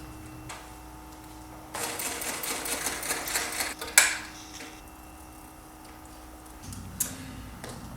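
A sewing machine runs in a burst of rapid whirring stitches for about two seconds, followed by a sharp click and quieter mechanical noises.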